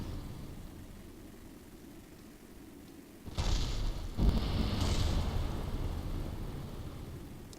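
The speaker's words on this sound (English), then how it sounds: "It's everything exploding at once in the atmosphere." Spacecraft explode in the atmosphere in a space-flight video game, giving a sudden rumbling roar of blasts that starts midway, swells with a second deep boom and then sustains as a loud, noisy wash, with no talking.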